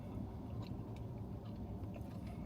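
Quiet, close chewing of rubbery KFC chicken nuggets, a steady soft mashing and biting with no talking.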